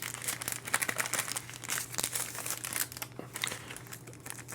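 A small plastic bag holding a lens protector crinkles and rustles in close, continuous handling, with sharper crackles scattered through.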